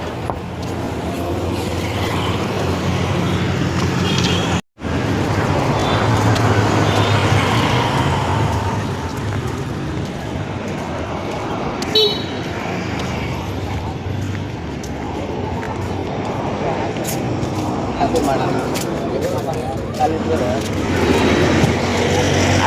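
Busy road traffic with buses flows past near a bus stand, a continuous close rumble of engines and passing vehicles, loud and steady throughout, with a brief dropout partway.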